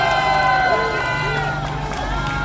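A large outdoor rally crowd at Seoul Station applauds and cheers for Ambassador Morse Tan, a continuous dense roar of clapping and shouts with voices carrying above it.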